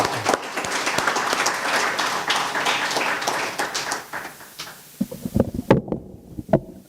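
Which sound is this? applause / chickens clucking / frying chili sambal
applause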